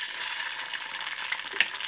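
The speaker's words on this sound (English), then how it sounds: "Time for the eggs. I'm going to be frying 2 eggs." A steady hiss of two eggs frying in a hot cast iron pan, continuous and close, with a faint click or tap near the end.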